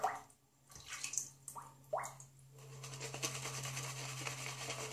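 Water is added to shaving soap in short splashy drips and wet rubbing bursts, close up, followed by a steadier running or lathering wash under a low background hum.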